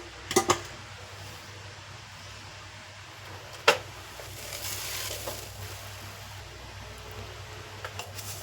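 Oil heating in a pan for frying capsicum: a faint, steady sizzle and hiss with a few sharp clinks of a utensil against the pan near the start and middle.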